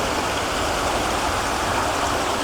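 A continuous, loud rush of water pouring down a natural cascade and flowing deeper into a cave, steady and enveloping throughout with no talking.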